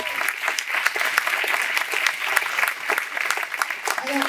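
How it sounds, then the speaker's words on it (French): Audience applause at a French community stage show, a dense sustained clapping from a sizeable crowd, steady and fairly loud throughout with faint scattered voices underneath. "Un tonnerre d'applaudissements."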